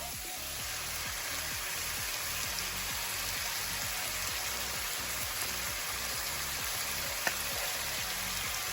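Chicken legs stir-fried with dark soy sauce in a wok over medium-low heat, giving a steady, dense sizzle and crackle that runs evenly throughout with no talking.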